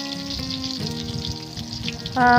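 Pieces of rui fish fry in hot oil in a home kitchen pan, giving a steady close sizzle with a tonal hum underneath. It swells louder near the end, with no talk.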